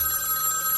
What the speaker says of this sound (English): I sit here and wait for my phone to ring